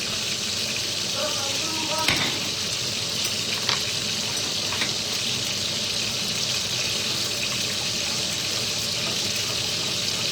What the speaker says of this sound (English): I'm right next to the frying.